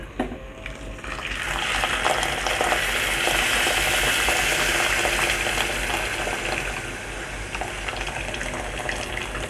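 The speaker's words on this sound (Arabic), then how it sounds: "دلوقتي هننزل بالميه المغليه" Boiling water poured into a pot of yellow rice: a sustained, loud rushing hiss and bubbling sizzle that swells early and continues steadily before easing slightly, with no talking.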